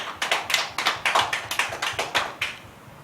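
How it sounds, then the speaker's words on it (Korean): A church congregation claps in about a dozen sharp, evenly spaced bursts during a Sunday worship service, steady and close, then fades out without any voices. "우리에게 은혜 주신 하나님께 영광의 박수 올려드리겠습니다."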